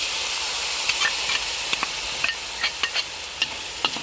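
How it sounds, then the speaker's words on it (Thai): Pork stir-fried with a shrimp paste sauce in a pan, with shallots and garlic, makes a constant loud sizzling hiss broken by sharp, irregular spatula clicks and scrapes. "ใส่ซอสกะปิที่เราทำลงไปเลยเาผัดเลย"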